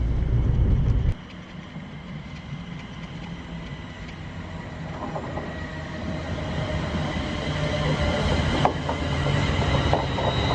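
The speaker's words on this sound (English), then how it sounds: "That's the first train of the day." The first train of the day runs through Watford Junction station, a steady rail rumble with brief wheel squeals and metallic clanks that builds slightly toward the end, heard without talking.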